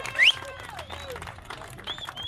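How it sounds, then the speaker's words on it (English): An audience at the Bullfrog Bash 2019 event claps in a dense, steady patter, with a sharp whistle rising at the start. The applause stays moderately loud and continuous. "Big round of applause for North Links Charter 2."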